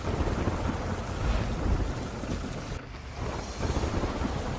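Heavy monsoon rain pours steadily in Porbandar, a dense, loud roar of downpour with low rumbling thunder underneath, continuous throughout with a brief dip partway.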